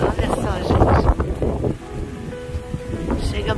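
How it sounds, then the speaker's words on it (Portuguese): Strong wind before a storm roars and buffets the microphone, shaking a large tree, with a voice talking in Portuguese over the gusty rumble throughout. "Mas está ventando demais."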